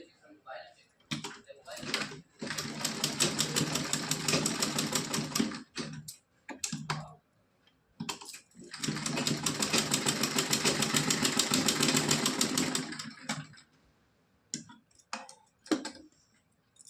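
A sewing machine stitches a simple cotton gota patti dress for a Laddu Gopal idol, running in two long steady rattling bursts separated by pauses, with someone talking between and around the runs.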